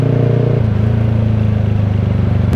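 A motorcycle engine with a deep, full exhaust note runs close by, a loud, steady low rumble whose throb settles slightly lower partway through and then holds evenly to the end.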